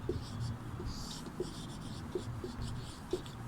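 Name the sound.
writing an answer on a board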